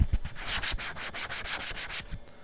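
Close, dry rubbing of sand-textured card stock, rasping in repeated back-and-forth strokes at a steady pace.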